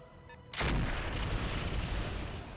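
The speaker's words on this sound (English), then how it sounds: "they're firing on the Vulcan, but they did literally nothing there" Heavy weapons fire in the RogueTech mech video game: after a quiet moment a sudden loud boom hits, followed by a sustained rumbling roar that slowly fades.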